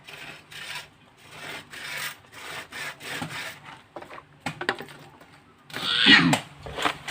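A blade shaves bamboo for the frame of a fish trap in repeated rasping, scraping strokes, close and fairly loud, with irregular rhythm and a sharper scrape near the end.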